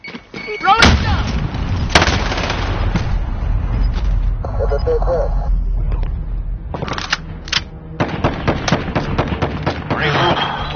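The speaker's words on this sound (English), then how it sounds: "Grenade out! Throw it down!" Loud gunfire and blasts in a PS4 shooter game match, with a heavy explosion-like burst early on amid continuous rattling shots, clanks and game effects; voices talk over the action.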